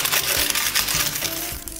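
Steel keys scraping and striking an airsoft AK to weather it, a run of quick, close metallic clinks and scratches in an irregular rhythm.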